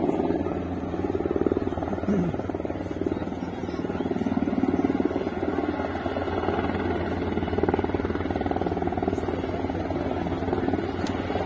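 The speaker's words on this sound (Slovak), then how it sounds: "Po vašej ľavici vidíme prilietať vrtuľník OS-10 Black Hawk" A Black Hawk military helicopter flies in at an outdoor tank-day show, its steady rotor thrum and engine drone loud and continuous. Crowd chatter and a few distant voices sit underneath.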